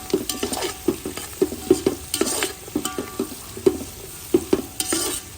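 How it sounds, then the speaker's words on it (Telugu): Onion, carrot and other vegetables stir-fried in a pan for gobi fried rice, rhythmic scraping strokes of a spatula over a low sizzle, near and fairly loud, no voices. "వేసుకున్న కూరగాయలు మగ్గేంత వరకు కలుపుకుంటాం"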